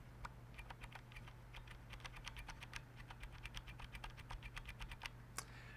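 Steady typing on an Akko 3084SP mechanical keyboard with scratchy brown switches, a quick run of soft clacky keystrokes heard close but quiet over a low background hum.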